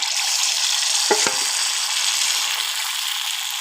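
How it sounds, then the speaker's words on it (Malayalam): Ground batter hits hot oil in a pan, a brief pour at about one second giving way to a loud, steady frying sizzle that fills the short stretch with no talking. "അപ്പോൾ നമ്മൾ എണ്ണയൊക്കെ കുറച്ച് ചൂടായിട്ടുണ്ട്. ഇനി നമ്മൾ അതിലേക്ക് അരച്ച് വെച്ച മാവിടുന്നത് കേട്ടോ."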